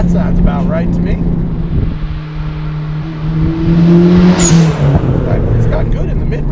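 A modified Hyundai Genesis Coupe 2.0T with a lighter flywheel pulls hard through the mid-range, its engine droning loud and close with a rising pitch, and voices talk over it inside the car.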